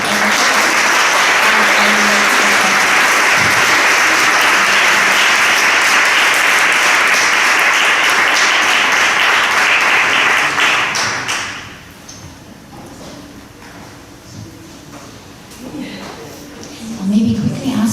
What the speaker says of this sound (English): I really invite the audience for a round of applause for the project